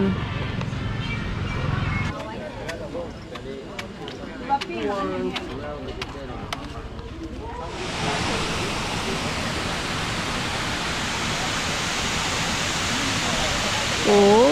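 Kaeng Mongkol waterfall beside a riverside restaurant in Luang Prabang, Laos, a loud steady rushing roar that swells in halfway through, after someone talks over quieter background sound.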